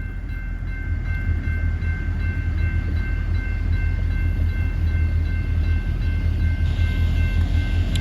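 Local CSX freight led by an SD diesel locomotive creeps in slowly, giving a steady, loud low engine rumble and rolling-car noise throughout, with no voices.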